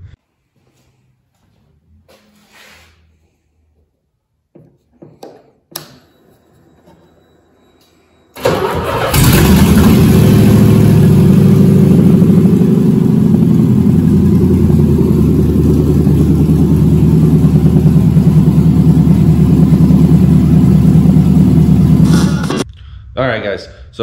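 An LS engine swapped into a Mazda FC RX-7 cranks and fires after some quiet shuffling, then settles into a loud, steady rumbling idle that runs nearly fifteen seconds before cutting off; a voice is briefly heard.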